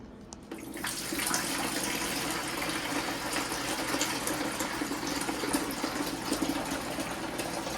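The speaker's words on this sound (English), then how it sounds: "So we'll just fill the water to that maximum line." Water pours steadily into the reservoir of a countertop portable ice maker, filling to the maximum line, a continuous splashing gush starting after a brief quiet moment and running on without pause.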